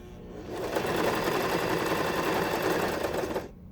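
A Janome New Home portable sewing machine stitches through two layers of fabric in one steady, fast, close-up burst of about three seconds, with no voices.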